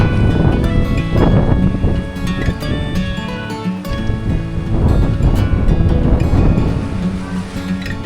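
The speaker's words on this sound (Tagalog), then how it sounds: "Hindi gaano malakas yung alon." Sea waves wash onto a rocky beach at Lobo, Batangas, surging and receding in broad roaring swells mixed with wind buffeting the microphone.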